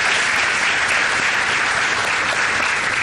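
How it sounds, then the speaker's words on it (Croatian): An audience at the Weekend Media Festival in Croatia applauds guests, a dense, steady wash of clapping from many hands that continues unbroken throughout. "Ja vas molim da ih pozdravite svim velikim pljeskama."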